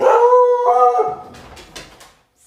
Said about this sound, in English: that was my loud puppy